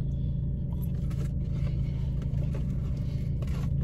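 A car engine idles steadily while parked, a constant low rumble filling the whole stretch with no speech over it.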